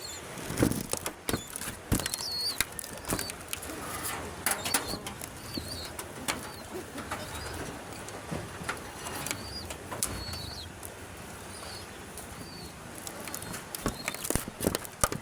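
Repeated bursts of flapping wings, pigeons taking off and fluttering nearby, with scattered clattering and shuffling noises throughout.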